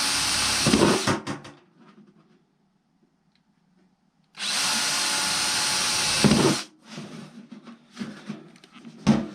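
A power drill with a sharp new bit drills pilot holes in two loud bursts, about two and four seconds long, separated by a quiet gap, with handling clatter after each run.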